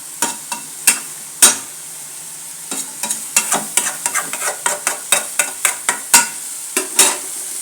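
Chicken and radish being stirred in hot oil in a pan, with a steady sizzle and repeated sharp scraping strokes of a spatula against the metal at an uneven rhythm, close up, no talking.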